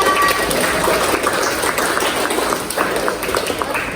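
Classroom applause for a student during a civics lesson, a short burst of clapping from pupils that fills the room steadily, loud and close, with some chatter underneath.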